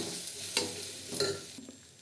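Vegetables sizzle softly in hot oil in a home kitchen pan, a quiet steady frying hiss broken by a few clinks and scrapes of a stirring spoon, with no talk.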